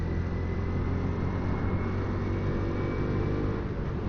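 Honda CT125 Hunter Cub motorcycle engine pulling steadily at speed with a constant drone and wind rush, close and loud, no gaps or pauses.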